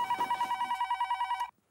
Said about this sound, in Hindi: बार बार यहाँ पे फोन क्यों कर रहे हो?